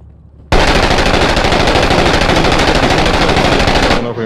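Sustained automatic gunfire in the Iraq war shooter Six Days in Fallujah, a loud, rapid unbroken burst of shots lasting several seconds before cutting off abruptly, with no voices over it.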